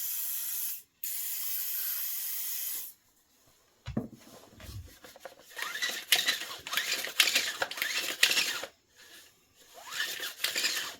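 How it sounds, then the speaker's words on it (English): Silicone lubricant hisses from a spray can in two long, loud bursts, followed by a stretch of scraping, rubbing handling sounds with short hissy spurts. "I'm going to spray a little lube."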